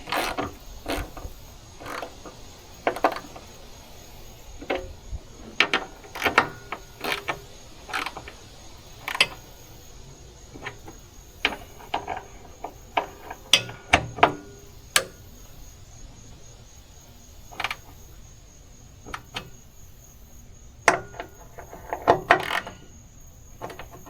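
A hand ratchet snugs bolts on tow dollies, giving scattered sharp clicks in short bursts against a quiet background with no talking.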